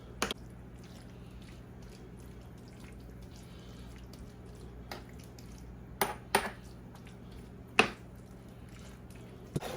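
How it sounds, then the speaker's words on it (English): Loaded BBQ baked beans with ground beef being stirred in a bowl, with soft wet squishing and a few sharp clinks of a utensil against the dish, brief and close over a low steady background. "So now we're just gonna mix everything together real nice."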